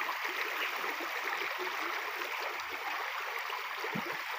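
A strong river current rushes in a steady, broad roar close by, without pause or talk, during fishing with a spear on a swift river.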